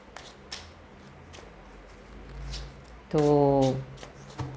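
Tarot cards are handled in a pick-a-card reading, with a few soft taps and rustles, then a loud riffle shuffle of about half a second, followed by a faint tap, while a voice speaks briefly.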